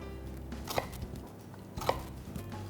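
A knife cuts through crispy all-spice pork belly on a board, giving two crisp, separate crunching strokes about a second apart, quiet and close with no talking.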